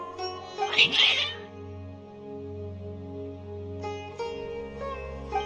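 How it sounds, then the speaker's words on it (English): Cats meowing in the video game Genshin Impact, a few cries over a sustained musical drone, one louder yowl near the start, then fainter calls against the background score. "Your cats seem pretty worked up."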